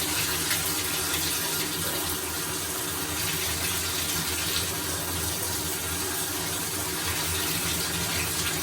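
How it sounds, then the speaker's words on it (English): Tap water runs steadily from a faucet through a trombone tuning slide, a continuous broadband rush and splash heard close and alone for the whole stretch. "We take it to the faucet and run the water through."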